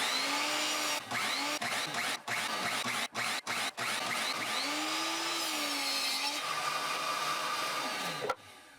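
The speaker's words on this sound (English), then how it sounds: "I could cut them to length over at the miter saw." A miter saw cutting wood boards to length, a continuous loud whining drone with brief dips between cuts, heard alone with no talking.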